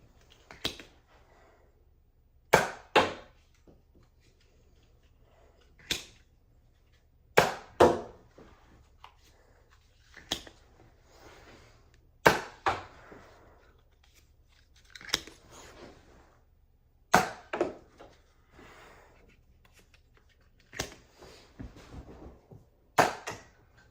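A Nerf Elite 2.0 Slash blaster fires standard blue Elite 2.0 darts. About a dozen sharp, close, snappy shots land at irregular intervals, each with a short springy rattle of priming before it, in a quiet room.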